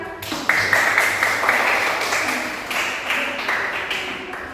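Applause breaks out in a classroom after a teacher-training group presentation, a dense, steady patter of many hands clapping that stays fairly loud and even throughout, with no voices over it.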